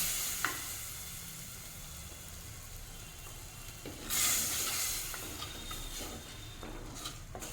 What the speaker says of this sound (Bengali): বেশ ভালো মতো ফুটতে শুরু করেছে।